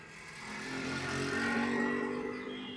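A car engine hums steadily and quietly during a driving lesson, swelling gradually as the car moves off in second gear, with no talk over it.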